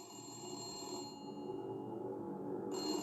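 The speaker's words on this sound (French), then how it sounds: "Et un téléphone?" A telephone rings steadily for about three seconds with no pause, an electronic ringtone made of sustained bright tones over a busy background, with no voices.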